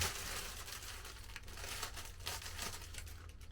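Lighter-colored, lightweight plastic packaging from a linen golf cap being cut through, a continuous close crinkling and crackling with uneven bursts that runs throughout with no talk.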